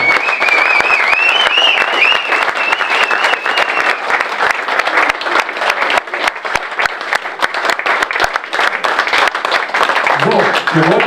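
A charity event audience in a small philharmonic hall applauds a performer with loud, dense clapping and some crowd cheering that runs for about eleven seconds, with a whistle-like tone early on and a voice emerging near the end.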